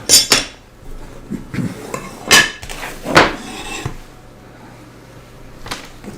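Several sharp glassy snaps and clinks ring out close by as stained glass is snapped along a score line, with quieter taps and handling noises between them.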